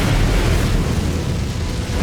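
A booming explosion attack from the Messmer boss fight in Elden Ring's Shadow of the Erdtree, a loud dense blast roaring continuously for about two seconds.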